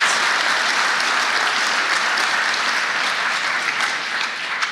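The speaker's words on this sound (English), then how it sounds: "one more really great round of applause for all of our recipients" An audience at a law school honors and awards ceremony applauds loudly and steadily throughout, a dense wash of clapping that fades slightly at the end.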